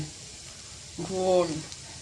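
Mushrooms dropped into a hot pan of Kerala-style restaurant masala give a sudden burst of sizzling that swells for about half a second and then fades, with soft frying noise before and after.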